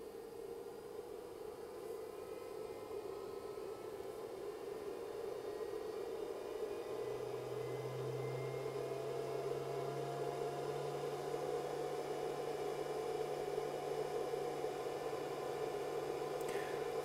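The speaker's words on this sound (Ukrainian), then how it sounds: "О, запускається кулер потужніше." LiFePO4 battery charger's cooling fan, with the charger working at full 40-amp output, hums steadily and then ramps up to a stronger whir, a constant close drone under faint background noise.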